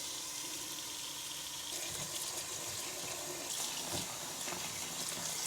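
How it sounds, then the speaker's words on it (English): Cool tap water runs steadily into a sink to soak freshly picked chive blossoms, a soft continuous gushing splash that swells slightly partway through. "Now I'm gonna soak these in some cool water to get any critters out of there"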